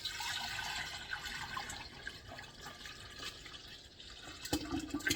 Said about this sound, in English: I'm going to try really carefully to pour it in there without spilling it.